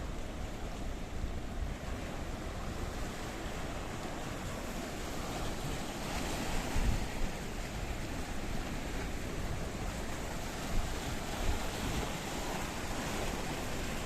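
Sea waves wash continuously along the Kissonerga beachfront near Paphos, Cyprus, a dense, steady rushing surf mixed with wind noise for about fourteen seconds, with no talk.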